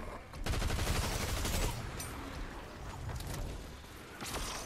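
Pump-action shotgun fire in a horde-fighting video game bursts in heavy, loud blasts, strongest in an early cluster, then in scattered shots that continue to the end.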